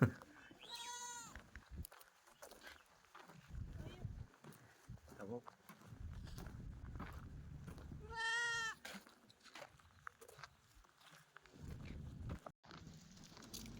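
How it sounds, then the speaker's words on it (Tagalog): Goat bleating loudly nearby as a child pulls it along, with two distinct wavering bleats among outdoor ambience, shuffling and occasional people talking. "Yung kambing, hinihila ng bata, ayaw sumunod eh."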